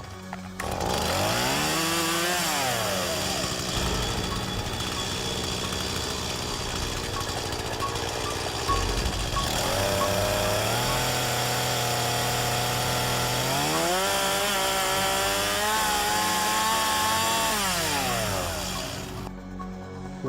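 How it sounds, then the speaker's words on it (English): A chainsaw revs up loudly in a hallway, engine pitch sweeping up and down through several throttle bursts before settling into a steady, close, continuous roar that fills the whole stretch. "The sound of the chainsaw revving to life in the hallway outside"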